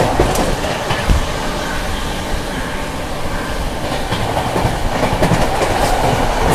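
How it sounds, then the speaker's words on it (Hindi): Seemanchal Express, the 12487 Jogbani to Anand Vihar train, rushing through Vindhyachal without stopping, a loud, close roar of rolling carriages with rapid clickety-clack of wheels over rail joints throughout. "सीमाचल एक्सप्रेस स्किपिंग विंध्याचल।"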